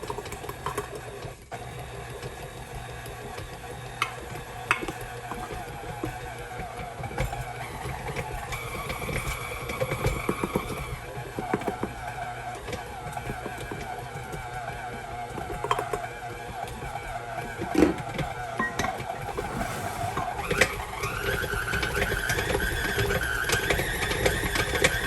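An electric hand mixer beats firm cookie dough for cinnamon roll cookies with flour, salt and baking powder, giving a steady whirring drone with small rattles throughout and no talk.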